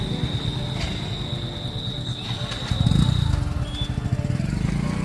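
A motorcycle engine runs steadily close by at a mechanic's, troubled by a petrol tank air vent that won't open, a low rumbling idle that swells louder partway through, with faint voices in the background.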